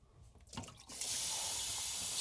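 Tap water runs steadily into a sink to rinse a fountain pen converter, starting after a few faint clicks and continuing as a close, constant hiss.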